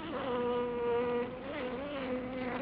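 Bumblebees foraging on wild rose flowers, vibrating the anthers to shake pollen loose, make a steady, close, moderately loud droning buzz with slight pitch wavers, continuous and alone.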